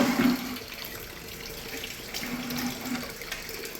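Water runs steadily from a brand-new Aquasana whole-house filter housing, a continuous close hiss and splash of pressurized flow, heard alone without talk.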